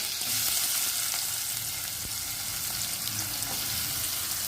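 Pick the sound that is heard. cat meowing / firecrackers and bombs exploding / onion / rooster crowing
onion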